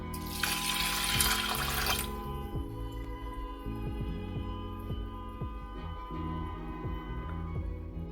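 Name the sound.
water being poured into a pot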